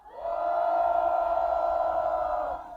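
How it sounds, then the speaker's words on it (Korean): A crowd at a union press rally lets out a sustained collective cheer, many voices in a loud unified shout that swells quickly, holds for about two seconds and then fades. "환호를 힘있게 해주시기 바랍니다"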